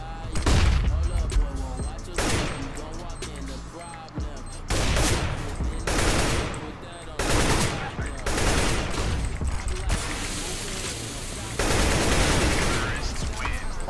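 Rapid gunfire bursts in the shooter video game CS:GO, loud repeated volleys of automatic fire separated by short gaps, with players talking over the shooting.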